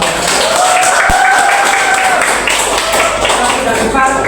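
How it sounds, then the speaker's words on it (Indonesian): Classmates clap before a student group's National Culture Day speaking performance, a loud, steady round of applause with voices calling and murmuring over it. "Sebelum pertunjukan boleh kita berikan tepuk tangan."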